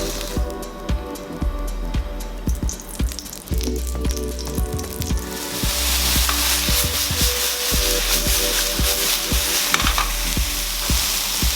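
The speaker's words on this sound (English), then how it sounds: "Once the oyster mushrooms are seared, go ahead and remove it and add it to the onions." Oyster mushrooms sear and stir-fry in a hot pan, a steady sizzle with repeated scraping strokes of a utensil, growing louder and hissier partway through, with no talking.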